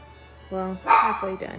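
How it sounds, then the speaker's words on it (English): A dog barks a couple of times nearby indoors, short clipped barks separated by a brief gap, while someone talks over them. "Excuse the dog."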